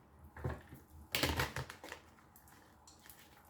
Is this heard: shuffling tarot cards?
yes